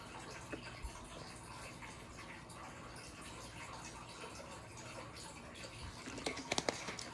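Water runs from a tap or is poured indoors, a steady broadband hiss that holds for several seconds, with a few brighter splashes and clinks near the end and no talking.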